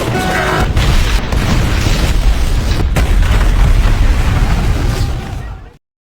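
A big explosion from The Expendables action film: a loud, sustained blast with a deep rumbling roar that fills about five and a half seconds, then cuts off abruptly into silence.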